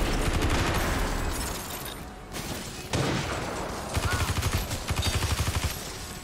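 Gunfire in the video game Watch Dogs 2, fighting robot spiders: dense bursts of rapid automatic shots, loud and close, including a rhythmic rattling volley near the end, with game noise underneath.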